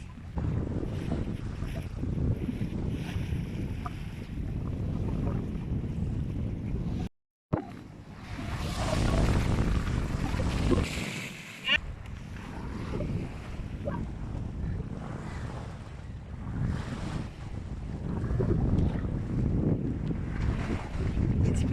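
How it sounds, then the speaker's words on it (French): A sailboat underway in strong wind, with steady rushing wind buffeting the microphone and water noise throughout and a brief dropout partway through as the sail changes tack. "la voile vient de changer de bord"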